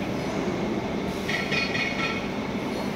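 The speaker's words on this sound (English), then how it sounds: "This one is the hydraulic winding turning row." Hydraulic winding turning roll machine running steadily, a continuous loud mechanical rumble and whine that holds without pause throughout.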